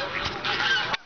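One loud, close honk from a goose at a feeding spot, a single harsh call about a second long that cuts off sharply.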